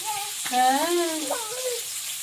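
Garden vegetables sautéing in a pan give a steady, soft sizzling hiss that runs the whole time, while a voice speaks or hums over it near the middle.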